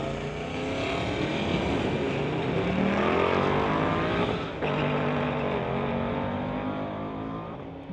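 Drag racing cars at Mission Raceway, including a 2019 Mustang, roar past at full throttle with rising engine pitch, a loud sustained blast that shifts as the cars pass and fade.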